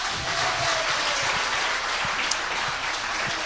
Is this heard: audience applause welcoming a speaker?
yes